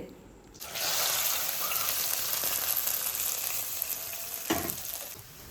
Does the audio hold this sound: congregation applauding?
no